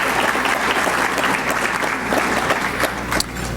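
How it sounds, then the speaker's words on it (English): An audience at the Redlands mayor's State of the City address gives loud, continuous applause from many hands, steady throughout. "It's nice to have the applause beforehand"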